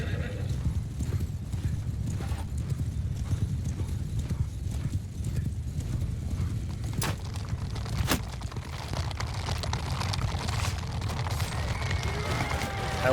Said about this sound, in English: I like the noise design of the horses on the bridge. Flip clops sound really good.